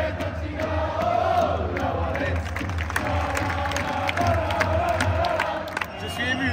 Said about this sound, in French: Regarde, Inox, ils applaudissent pour toi.